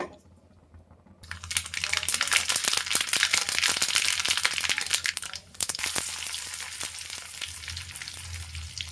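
Hot oil tempering with chilli, onion, dried chilli and curry leaves crackles and sizzles loudly after a quiet second, steady popping and spitting that briefly dips near the middle before continuing.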